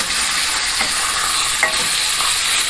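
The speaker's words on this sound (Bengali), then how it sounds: "মাছটা আমি পাল্টে দিচ্ছি বন্ধুরা" Pieces of fish, head and tail cuts together, sizzle loudly in hot oil in a pan as they are turned over for a long beans and potato fish curry, with a steady crackle and a few brief scrapes.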